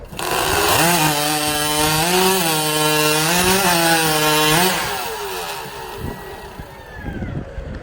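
Powered saw ripping through timber at a lumberjack competition, a loud, close engine roar with wavering pitch as it bites into the wood, then dropping away to quieter rumbling and background noise.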